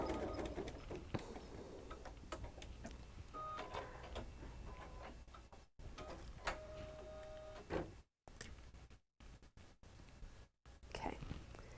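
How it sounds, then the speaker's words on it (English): An embroidery machine stitching a circle runs with a fast steady ticking mechanical rhythm and brief tonal beeps, stopping and restarting in short bursts near the end. "So I'm going to stitch a circle."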